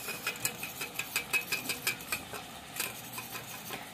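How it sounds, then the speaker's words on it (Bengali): A spoon stirring spice mixture into a little water in a small bowl, quick rhythmic clinking strokes against the sides that slow toward the end. "এটাকে এবার একটুখানি জলের মধ্যে গুলে নিলে ব্যাস"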